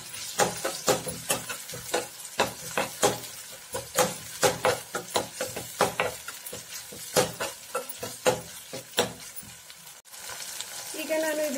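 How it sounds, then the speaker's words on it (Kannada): Tomato and chilli paste fries in a pan for a black-eyed bean curry, a steady close sizzle broken by repeated rhythmic scrapes of a spoon stirring, with no talk. "ಇದು ಒಂದು 2 ನಿಮಿಷ ಚೆನ್ನಾಗಿ ಫ್ರೈ ಮಾಡ್ಕೋತಾ ಇದ್ದೀನಿ."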